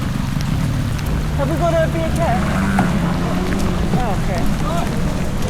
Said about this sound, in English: As soon as we get in the dinghy, it starts pouring with rain.